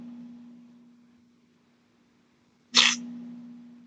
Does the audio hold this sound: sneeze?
yes